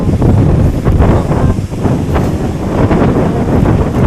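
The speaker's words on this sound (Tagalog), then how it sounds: "Lakas ng hangin." Strong wind buffets the microphone in a loud, continuous low roar with gusty surges, close and overwhelming.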